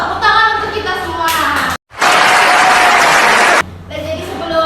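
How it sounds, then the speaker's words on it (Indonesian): Classroom applause during a micro-teaching lesson bursts in loudly after a brief silence, sandwiched between bits of children's and adult voices talking. "Tepuk tangan untuk kita semua."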